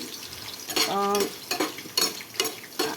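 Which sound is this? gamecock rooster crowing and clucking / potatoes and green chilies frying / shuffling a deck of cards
potatoes and green chilies frying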